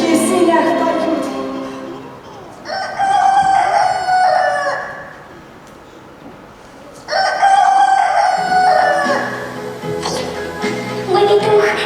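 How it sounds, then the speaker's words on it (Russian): A rooster crows twice during a children's theatre performance of the stage play "Koshkin Dom" (The Cat's House). The two long, loud, strained calls are separated by a quieter pause over a room-like background. "Петушки в сенях поют."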